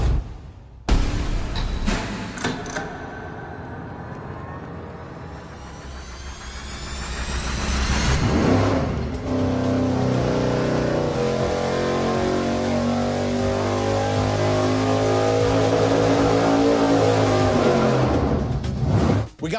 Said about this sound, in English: pretty soon you're gonna see our LS run on its first shot with the original hose